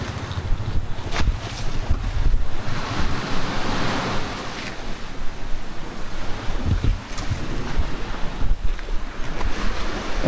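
Waves wash and churn at high tide near a mansion, with steady surf and gusting wind rumbling into the microphone throughout.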